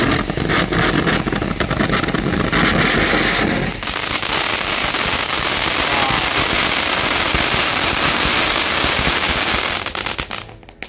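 Jumbo cake firecrackers go off on takbiran night in a loud, continuous barrage of crackling bursts, dense at first and then a sustained roaring hiss that cuts off near the end.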